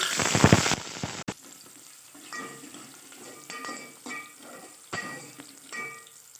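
Onion and garlic hit hot oil with cumin and coriander for rongi dal: a loud burst of sizzling frying at first, then quieter crackling and sputtering with scattered utensil clinks, no talk.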